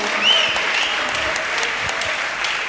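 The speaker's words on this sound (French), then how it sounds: "on peut applaudir Cyrano quand même" An audience applauds Cyrano, a dense, steady wash of many hands clapping that holds evenly throughout, with a brief whistle near the start.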